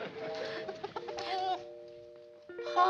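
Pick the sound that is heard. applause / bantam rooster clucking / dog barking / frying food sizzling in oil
bantam rooster clucking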